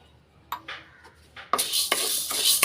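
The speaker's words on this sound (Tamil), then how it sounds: "கடலைப்பருப்பு நல்லா வறுபட்டுருச்சு இப்போ பருப்பு சேர்த்துக்கிறேன்" Roasted chana dal and lentils stirred in a pan with a spatula while making idli podi: a few soft scrapes at first, then a louder, steady rattling rustle of dry dal grains shifting against the metal.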